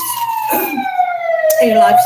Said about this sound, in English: The wonderful ambulance is coming now.